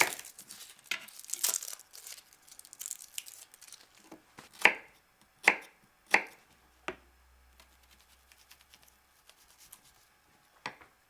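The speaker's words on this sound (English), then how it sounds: "finely chop the shallot" A knife chops a shallot on a cutting board for a peppercorn steak sauce, with a few distinct, fairly loud chops spaced apart after some soft rustling at the start; no voices.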